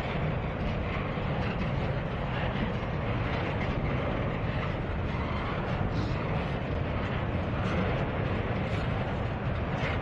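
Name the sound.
long NS container stack train passing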